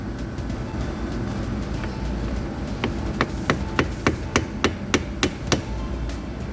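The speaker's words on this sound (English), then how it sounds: "let's go get an hammer and give that a little tap" Around a dozen sharp metallic hammer taps on a Ford Focus car part in a steady rhythm, starting quietly and growing clearer, over a constant low background rumble.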